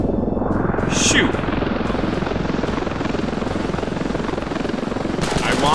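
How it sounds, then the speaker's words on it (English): A helicopter in the video game Ravenfield gives a loud, steady rotor chop with a fast pulsing beat that stays close throughout, with brief sharp gunfire bursts near the start and end and people talking over it. "I want to kill a helicopter."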